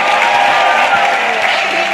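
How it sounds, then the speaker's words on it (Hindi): Loud, full applause from a crowd at a live meet-up with a teacher in Jaipur, dense clapping mixed with crowd noise and some faint cheering, steady throughout. "तो सर के लिए जोरदार ताली होनी चाहिए"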